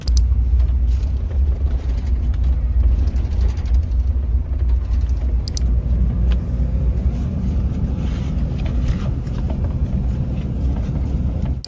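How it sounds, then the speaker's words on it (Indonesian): A modern sleeper bus rolls along a Sumatran road, its engine and tyres giving a steady, heavy low rumble that fills the cabin throughout, with faint rattles here and there and no talking. "Kalau di bis-bis sleeper zaman sekarang suara gemblodak itu udah sangat minim teman-teman, udah sangat nyaman."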